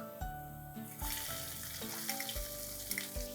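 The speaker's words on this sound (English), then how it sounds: "Once all of this kind of crackles and sizzles well" Hot oil sizzles and crackles steadily up close as spices fry for a dal tadka, with faint clinks and tonal clatter from a pan underneath.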